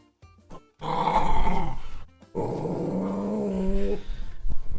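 A dog growls close up in two long, low, rumbling bursts separated by a short pause, with no talking over it.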